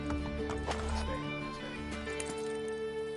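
A horse in the game Assassin's Creed Brotherhood clip-clopping at a gallop with a whinny, steady hoofbeats over dense game music.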